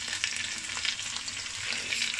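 Chicken stirred in a hot pan after a splash of cooking wine, a steady sizzle with soft scraping from the utensil, close and alone with no talk.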